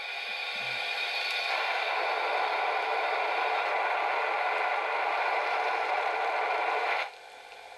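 The blowdown sound from an HO scale Class J model steam locomotive: a loud, continuous blast of hissing steam starts abruptly, holds steady for about six seconds, then cuts off sharply, leaving a quieter background hiss.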